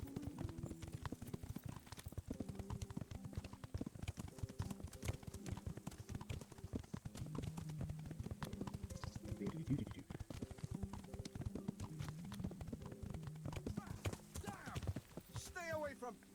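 Horse hooves clip-clop in a steady rhythm as a rider travels down a road in the video game Kingdom Come, quiet and continuous beneath other game sounds.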